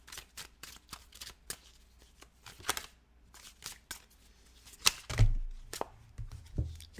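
A deck of tarot cards is shuffled by hand in quick, crisp bursts of riffling and tapping, with a few heavier thumps near the end and no talking.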